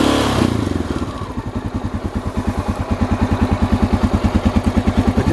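A 1988 Honda NX650 motorcycle engine idles nearby at about 1,200 RPM with a steady, rhythmic low putter after a brief louder start, pulsing evenly and fairly loud.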